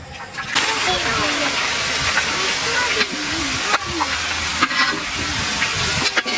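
Jackfruit chips frying in hot oil in a village kitchen, giving a steady broadband sizzle and hiss with intermittent stirring scrapes, close and loud, with someone talking over it.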